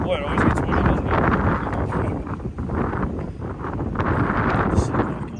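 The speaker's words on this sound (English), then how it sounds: "Boy, it always gets windy, doesn't it?" Gusty wind roars into a microphone outdoors during work on a 1985 Honda ATC250R three-wheeler, a steady rushing buffet that continues throughout with faint talk beneath it.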